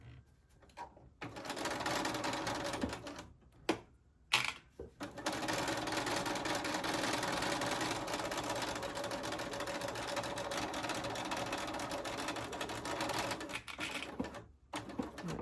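A sewing machine runs steadily in a continuous mechanical whir while sewing quilted sneakers, pausing briefly a few times to turn with the needle down before resuming its rapid stitching.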